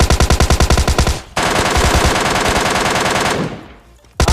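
M24 sniper rifle fire in PUBG Mobile: loud, rapid rhythmic bursts of gunfire up front, then a sustained dense roar of shots that fades before a final sharp blast.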